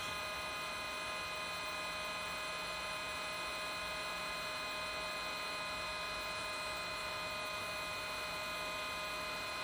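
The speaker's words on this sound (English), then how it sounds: "Now, the DeWalt gun is a little lower heat than our big corded one" A DeWalt cordless heat gun shrinks glue-lined heat shrink tubing over the end of an unused wire on a classic car, giving a steady, unbroken blower hum with a constant tonal whine.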